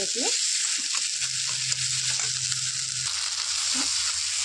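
Paneer curry with red pumpkin flowers being stirred in a pan, with a steady frying sizzle and soft scraping stir sounds close by, no talking.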